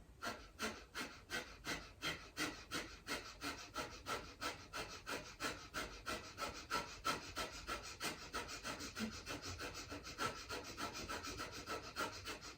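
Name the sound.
quick forceful breaths out the nose, yoga breathing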